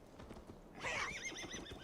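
A horse in the video game Assassin's Creed Valhalla gives a short whinny over soft clip-clopping hooves, quiet and brief.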